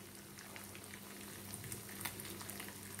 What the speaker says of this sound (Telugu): రెండు వైపులా తిప్పుకుంటూ వేయించుకోండి